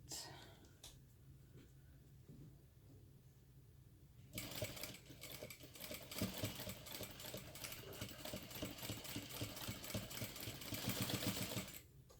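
A sewing machine stitches a crossbody bag over hardware, starting after a quiet stretch with soft handling noises, then running steadily with a fast, close mechanical rattle for several seconds.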